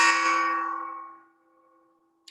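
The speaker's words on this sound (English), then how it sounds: "I have the gong to designate the 1 minute point," A single gong stroke marking the one-minute point in an art talk rings out loud and bright, its metallic tone fading slowly over about a second and a half into silence.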